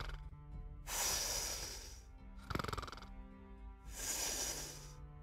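A voice imitates snoring in three drawn-out, breathy rasps, close and fairly quiet, with a short rattling snort between the first and second, over a low steady background hum.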